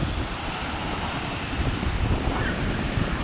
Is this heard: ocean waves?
yes